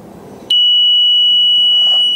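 A handmade temperature response alarm, built to warn of an engine overheat, trips and emits a loud, steady high-pitched electronic tone that starts abruptly and holds unbroken after a moment of quiet.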